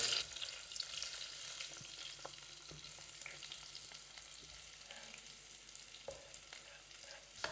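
Onions fry in coconut oil in a pan as the base of a chicken-curry-style filling, giving a soft, steady sizzle with scattered sharp ticks and scrapes from stirring, heard close but quiet.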